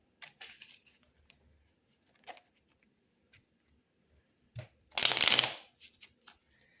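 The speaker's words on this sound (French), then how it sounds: "on va aller tirer 5 cartes de tarot et ensuite on va tirer des cartes d'oracle pour avoir un complément d'information" Tarot cards are handled and shuffled close up, with scattered soft flicks and taps followed by one brighter riffling burst near the end, quiet and without talking.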